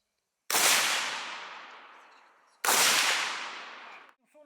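Two loud, sharp gunshots ring out a couple of seconds apart at shooting training near Bucha, each followed by a long echoing decay, with little else around them.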